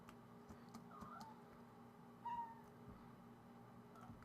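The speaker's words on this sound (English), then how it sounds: "I'm not sure if you hear that, but that is my cat." A pet cat on a desk gives one short, faint meow in a quiet room, heard once partway through among light tapping and clicking from a keyboard.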